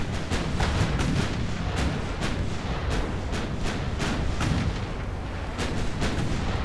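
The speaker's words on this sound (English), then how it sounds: "They're focusing their gunfire on Deutschland" Naval gunfire in Ultimate Admiral Dreadnoughts during a cruiser battle in the Irish Sea, with repeated sharp cannon reports firing in an uneven rhythm over a constant low rumble of sea and engines, loud and sustained.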